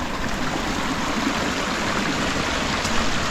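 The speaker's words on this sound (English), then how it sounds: "Another creek." Water flowing in Crooked Branch, a creek on the Florida Trail near the Suwannee River, makes a steady, broadband rushing murmur that stays even and close throughout, with no voices.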